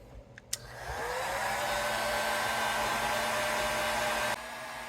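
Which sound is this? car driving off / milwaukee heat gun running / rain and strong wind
milwaukee heat gun running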